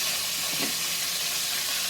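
Oil sizzling and hissing steadily as chicken fries, a dense continuous crackle with no pauses and no voices.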